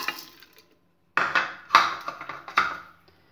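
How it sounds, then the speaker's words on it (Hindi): A quick run of rattling, clattering pours of dry black lentils into a metal pressure cooker, in a few bursts after a brief quiet start. "दाल को प्रेशर कुकर में"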